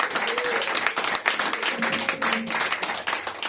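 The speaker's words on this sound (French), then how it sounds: "Acclame pour Jésus bien-aimé" A church congregation at a Sunday worship service applauds for Jesus, a steady dense wash of clapping and cheering that fills the whole stretch, with faint voices mixed in.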